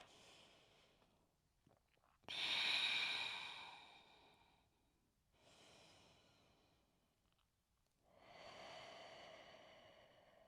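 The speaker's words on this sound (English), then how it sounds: "Breathe." Slow, deep yoga breaths during a forward fold, heard as about three long, soft inhales and exhales separated by quiet pauses, close and gentle with no talking.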